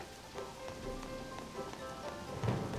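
Rain falls steadily in Harvest Moon: Animal Parade, a soft continuous patter with scattered droplet ticks at moderate volume and no voices.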